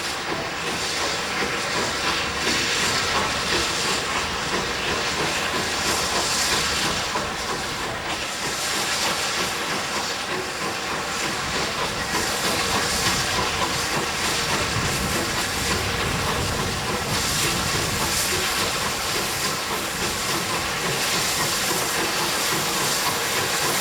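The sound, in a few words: West Country Pacific steam locomotive pulling away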